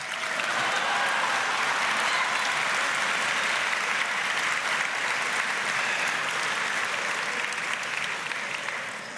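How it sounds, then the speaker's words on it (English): A dinner audience applauds for Kim Cattrall, a loud, dense, sustained ovation of many hands filling the room steadily for several seconds. "how about a round of applause for Kim Cattrall?"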